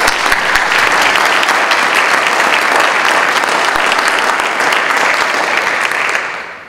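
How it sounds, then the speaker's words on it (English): Sustained applause from an audience honoring a $1,000 scholarship recipient at a "Best Kids In America" presentation, dense steady clapping throughout that tapers slightly near the end. "can we clap for him?"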